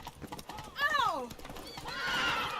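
In The Witcher 3: Blood and Wine, the horse Roach gallops with quick clip-clop hoofbeats and gives a loud, falling neigh partway through, while game sounds and a voice continue underneath.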